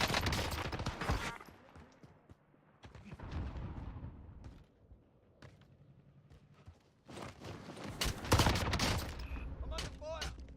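Video game gunfire comes in bursts of rapid automatic shots and louder volleys, separated by quieter stretches with footsteps, and a voice speaks briefly in the mix.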